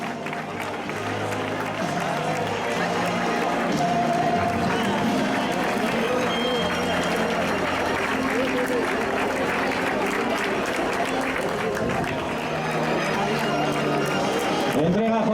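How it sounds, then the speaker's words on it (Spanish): A crowd applauds at the trophy ceremony of a charity fun run in Gijón, a steady bed of clapping that runs under an announcer's amplified voice. "El aplauso para este podio femenino."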